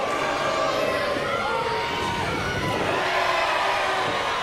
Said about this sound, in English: Oh, the crowd getting right behind it.